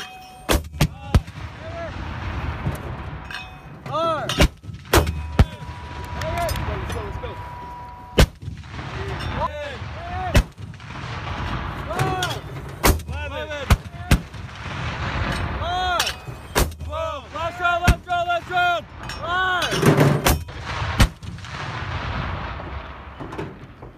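Rapid mortar fire from a crew shooting a 13-round fire-for-effect mission: a fast run of sharp, loud reports and booming thumps with echoes, mixed with shouted commands and chatter among the crew.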